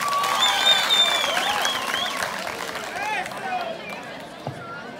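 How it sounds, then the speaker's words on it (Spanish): Applause and crowd noise fill a school event, swelling at first and then thinning out as a voice speaks and scattered claps and murmurs fade toward the end. "lo recibimos con un aplauso."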